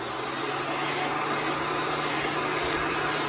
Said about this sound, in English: I'm going to take my heat gun and I'm going to dry this.